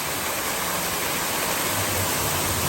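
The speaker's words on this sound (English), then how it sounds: "now we're getting into a waterfall over here" Water roars down a waterfall on a ride at Soaky Mountain Waterpark in the Smoky Mountains, Tennessee, a dense, constant rushing hiss filling every moment, close and loud with no voices.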